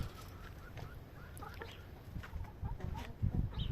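Several newly bought brown and black hens moving about an outdoor run, giving soft, scattered clucks at moderate distance over quiet background, with a louder cluck near the end.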